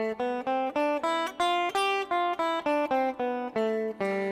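A Mixolydian scale played on a pitched instrument, one clear sustained note after another in a steady rhythm, about fourteen notes climbing and then coming back down, loud and alone.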